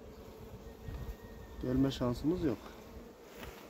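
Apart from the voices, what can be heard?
honeybees buzzing at a hive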